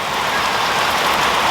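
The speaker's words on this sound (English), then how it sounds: "they will not go out when it's raining like this" Heavy rain pouring down on a farm during a storm, a dense, even hiss of water that stays loud and constant without a break.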